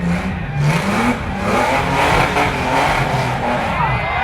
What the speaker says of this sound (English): Josh, that is definitely one of the loudest cars